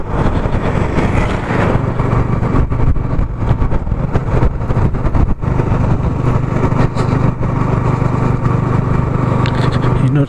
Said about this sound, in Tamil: இன்னொரு ஸ்பீட் பைக்கர்